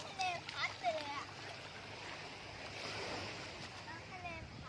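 Sea waves washing onto Pattaya beach where children play in the water, a soft, continuous surf wash with small splashes, heard fairly faint beneath children's voices and chatter.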